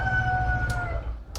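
A rooster crows in a rural Philippine yard in one sustained, drawn-out call with steady tone. Low background rumble sits beneath it, and no one speaks.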